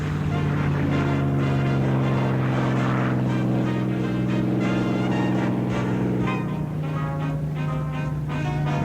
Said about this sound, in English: Listen to the sound of the beautiful Mustang.